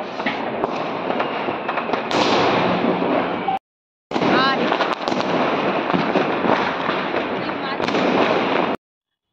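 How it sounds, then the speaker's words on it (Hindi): Diwali firecrackers bursting from a rooftop in a steady, dense crackle of pops and bangs, loud and continuous with two short gaps, voices faintly mixed in. "पटाखे इतने अच्छे लग रहे थे"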